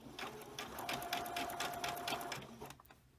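A sewing machine runs steadily while stitching a Simplicity 1613 pattern, its close, even motor hum and rapid needle rhythm continuing for nearly three seconds before stopping abruptly.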